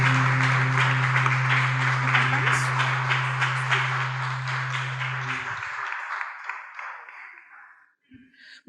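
Applause from a church congregation rises over a sustained musical tone, then gradually fades away to near silence.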